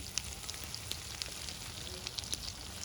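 Chicken tandoori bread rolls shallow frying in oil over low heat, a faint, steady sizzle with scattered small pops and crackles, no voices.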